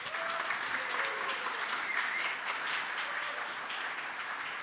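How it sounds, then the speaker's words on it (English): A meetup crowd gives a warm, full round of applause: steady dense clapping at moderate loudness that tapers gently near the end, with faint vocal sounds mixed in. "Can everyone give a warm Fusion round of applause for James?"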